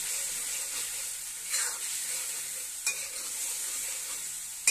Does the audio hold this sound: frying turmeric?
yes